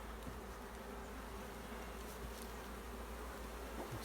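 Honeybees hum in a dense, continuous buzz while honey is cut from a log hive, faint and steady with no talking.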